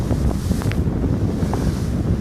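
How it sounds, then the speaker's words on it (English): Strong gusting wind from a storm buffets the microphone on a boat on rough water along the Toronto harbourfront. It roars continuously and loudly over the lapping waves, with no one speaking. "We have winds gusting, depending on who you ask, 70 kilometers an hour or 90 kilometer an hour gusts."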